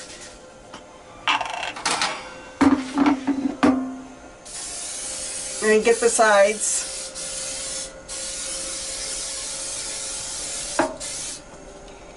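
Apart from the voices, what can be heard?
cooking spray sprayed onto baking pan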